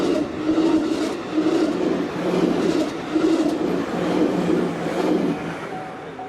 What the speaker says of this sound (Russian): тут вот такие пути, по которым ездят поезда каждые 5 минут